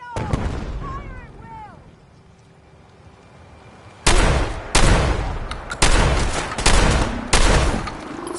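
Soldiers firing in Fallout 4's Far Harbor, a string of loud sharp shots and bursts in close succession following quieter moments with shouting voices and a faint whistle-like call.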